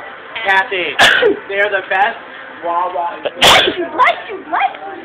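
A sharp, loud sneeze bursts out twice amid lively indoor chatter, two abrupt explosive blasts about two seconds apart cutting through people talking nearby.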